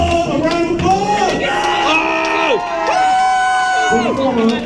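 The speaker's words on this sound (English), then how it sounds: "Let's give Mo a round of applause." A crowd roars and whoops for an air guitar contestant at a Glen Burnie qualifier show, with loud sustained shouts and rising and falling cries and only a little clapping.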